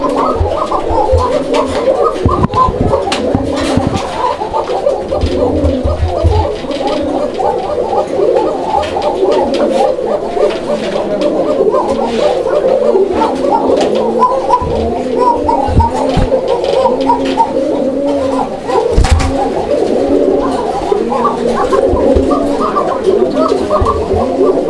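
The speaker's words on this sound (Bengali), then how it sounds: "প্রত্যেকটা কোকাই ভরপুর ডাকে" Koka pigeons kept for sale coo repeatedly in low, rolling bursts throughout, several birds overlapping close by, with occasional sharp knocks and some background talk.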